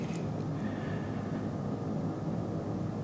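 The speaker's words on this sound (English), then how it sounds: "looks like there's a plane in the distance" A distant airplane passing high over Winnipeg in winter gives a faint, steady low drone under a quiet, even background, with no voices.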